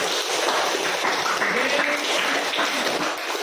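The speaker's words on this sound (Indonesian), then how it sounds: "Oke, beri tepuk tangan untuk kelompok." A class bursts into dense, sustained applause for a group that has just finished a school floor gymnastics routine; the clapping is steady and fills the room throughout.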